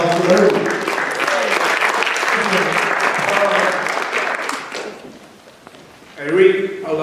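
Audience applauding a student at a school event on immigration stories: several seconds of dense, close clapping from a crowd, dying away near the end, followed by a brief burst of voices.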